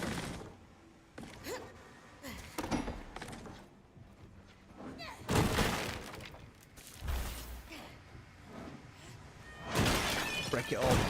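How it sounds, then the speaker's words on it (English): Clay pots shattering in the Eternal Strands video game, several loud breaking crashes in bursts with clattering debris and game noise between them. "Get that pot shattering sound effect going."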